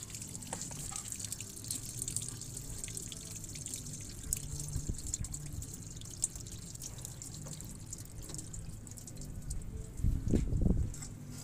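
Pot of water at a rolling boil on a stove, a steady low bubbling wash with a slightly heavier surge of bubbling near the end, no talking.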